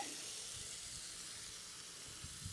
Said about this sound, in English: we're going to go ahead and throw that steak on